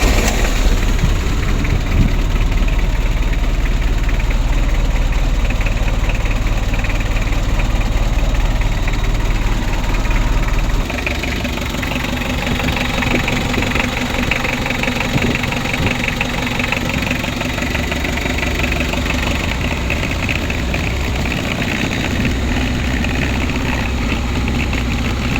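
A rebuilt Mitsubishi L300 engine runs at a steady idle nearby, a continuous low rumble with a faint knocking texture that drops slightly in level partway through, with no talking over it.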